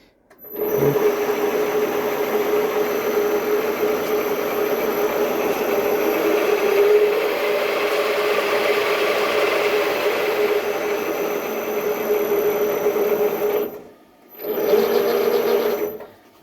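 A TV-4 benchtop metal lathe hums steadily after being switched on, a continuous motor whine with a high tonal line, running loud and close, briefly cutting out near the end before spinning back up.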